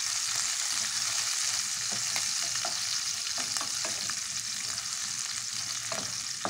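Green chillies crackle and sputter in hot oil, a steady loud sizzle with frequent sharp pops throughout.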